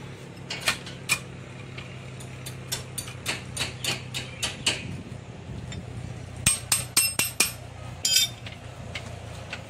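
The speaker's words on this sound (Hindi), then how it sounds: "देखो अब रिंच लगाएंगे" A wrench works nuts loose on an engine, making a series of sharp metallic clicks and taps in bursts over a low background hum, close and fairly quiet.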